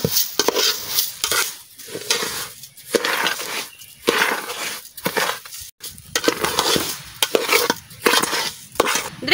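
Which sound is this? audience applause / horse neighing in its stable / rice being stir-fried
rice being stir-fried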